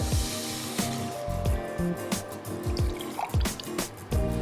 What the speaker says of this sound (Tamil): நான் இந்த பீட்ரூட் தண்ணியை, அதாவது பீட்ரூட் சிரப்பை வந்து இப்போ உள்ளே ஊற்ற போகிறேன்